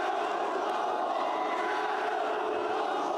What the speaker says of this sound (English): We're going to do battle chants.